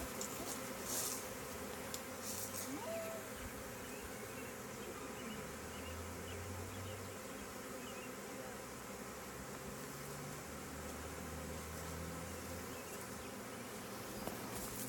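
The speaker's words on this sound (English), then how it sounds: "There's a lot of bees in the box." A swarm of honey bees being caught into a box in June hums as a dense, continuous buzz filling the whole stretch, close and steady with no clear breaks.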